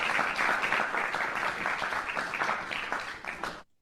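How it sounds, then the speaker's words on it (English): A room of people applauding at the end of a webinar presentation, a dense steady clapping that holds for a few seconds before cutting off abruptly. "And I think we all deserve a round of applause."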